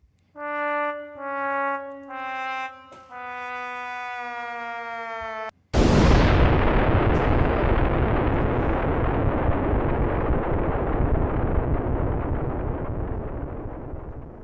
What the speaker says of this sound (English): That was a long explosion.